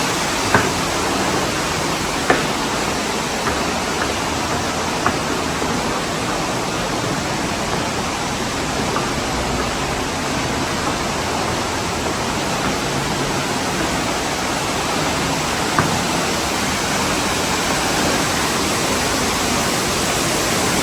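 Cavern Cascade waterfall in Watkins Glen State Park, a loud, unbroken roar of falling water heard close by, with a few faint clicks over the top and no voices.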